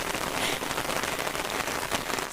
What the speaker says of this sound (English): So guys, it started raining heavily